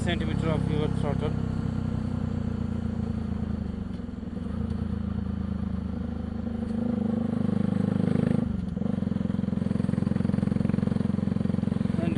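A Bajaj Pulsar 200NS motorcycle fitted with a modified exhaust runs close by with a steady, loud low engine drone, its revs rising and falling, while someone talks over it.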